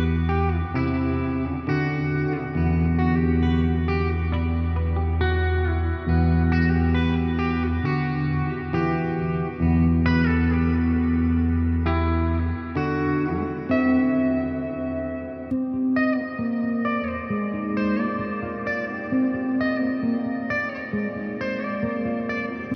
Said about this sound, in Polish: Żeby uzyskać ten dźwięk, potrzebujesz Fender Tone Master, Chorus, Delay i Reverb.